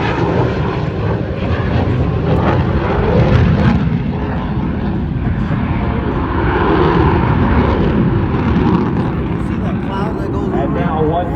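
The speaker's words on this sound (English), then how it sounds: "In from the left, the F-16 and the 4-point roll." An F-16 jet performing a four-point roll at the Oshkosh airshow in Wisconsin roars steadily and loudly throughout, a broad sustained rush of engine noise with a public-address announcer's voice over it.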